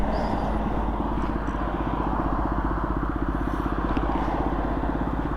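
A motorcycle rides along a French country road toward Salvetat-Saint-Gilles, its steady engine drone close and continuous throughout with a constant throbbing pulse and no break.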